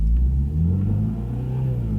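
A 2021 MINI GP3 engine and exhaust rev in a deep, rumbling burst, the note rising then settling into a steady low drone, close and loud with no talking.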